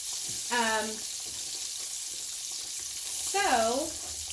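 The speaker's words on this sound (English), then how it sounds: "See how that's frying up?" Pork tenderloin frying in a skillet gives a steady, bright sizzle that runs through the whole stretch, with a couple of short bits of talk over it.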